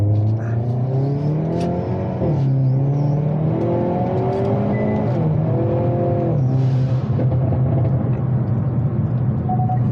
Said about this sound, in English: that blow-off valve sounds so good